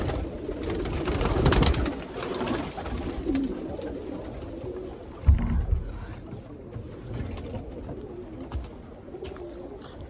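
Pigeons in a loft coo softly in low murmurs, with occasional louder thumps and wing flutters nearby, and no talking.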